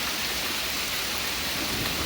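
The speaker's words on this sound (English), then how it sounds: "But that lightning was definitely close." Heavy rain pours down during a strong thunderstorm in Pittsburg, Kansas, a loud, dense, continuous roar with a low rumble of thunder from close lightning underneath, and no talking.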